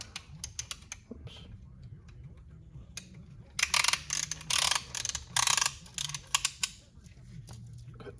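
A ratchet wrench tightens a part during reassembly of a 454 engine on a 35-year-old RV, with quick bursts of clicking in the middle of the clip, close and moderately loud over low room noise and faint voice.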